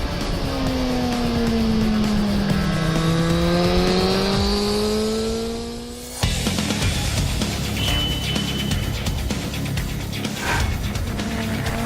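A Suzuki GSX-R1000R superbike engine on launch control revs up hard and holds near a limited RPM, its pitch climbing as the rpm rises. A sudden cut follows, then a loud, rough, steady engine drone, close and alone.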